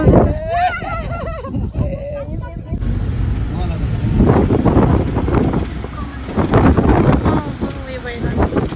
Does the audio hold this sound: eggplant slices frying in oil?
no